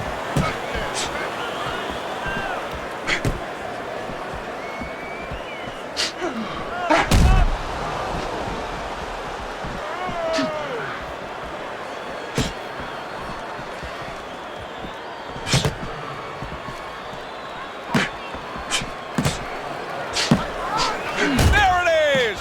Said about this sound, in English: Muhammad Ali's damaged by a right hand